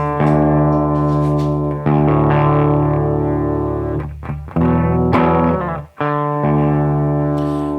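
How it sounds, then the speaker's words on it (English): Electric guitar played through a Barber Electronics Gain Changer distortion pedal, sustained buzzing chords ringing out loud and close, with brief breaks and a sharp cutoff near the end. "it is a distortion pedal."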